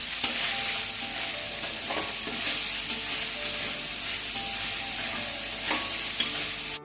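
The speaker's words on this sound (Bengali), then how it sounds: "যে ফ্রাইড রাইসটা ওটাকে চিংড়ি মাছের সাথে ভেজে আবার একটুখানি ওই মিক্স করে দিচ্ছে।" Fried rice with shrimp fries and is stirred in a hot pan, giving a loud, steady crackling sizzle close by with occasional utensil scrapes and no voices.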